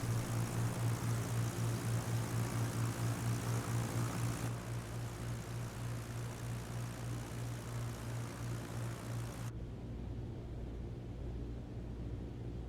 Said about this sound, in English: We transition into slow flight down the runway, managing our rate of descent and airspeed until the aircraft is ready to settle onto the pavement.